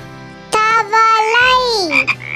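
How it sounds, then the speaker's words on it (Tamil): A frog gives a loud, close, drawn-out croak with rising and falling tonal calls, heard alone without speech. "தவளை."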